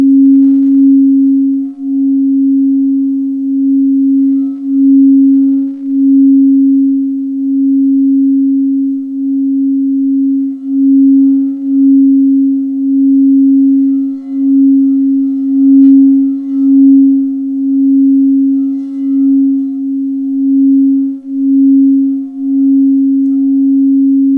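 A steady low hum of a Schumann resonance tone with a slow, pulsing wobble, continuous and loud, holding one pitch throughout with no other sounds.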